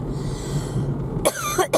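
A steady low hum fills the background, then two short harsh coughs ring out close by near the end.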